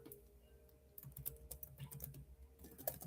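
Quiet, close typing on a computer keyboard: a quick run of light key clicks with a few louder taps, no voice.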